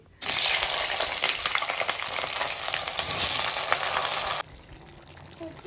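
Cut mixed vegetables hit hot oil in a kadhai, giving a loud, steady sizzle that runs for about four seconds and then cuts off abruptly, leaving only faint background.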